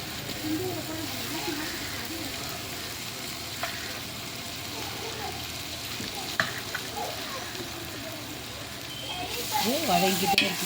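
Ingredients sauté in a pan for chicken biryani, giving a continuous sizzle with occasional stirring scrapes, close up, while a person talks over the cooking.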